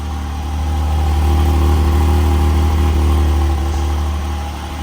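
A Porsche GT4's naturally aspirated engine idles close by with a steady, loud, even hum that swells slightly and then eases toward the end, with no voices.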